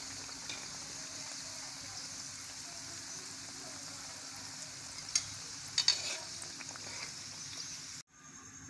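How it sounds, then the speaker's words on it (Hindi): Chicken burger patties fry in a pan with a steady, fairly quiet sizzle throughout, a few brief louder crackles near the end before it cuts off. "फ्राई करेंगे इनको अच्छी तरह से।"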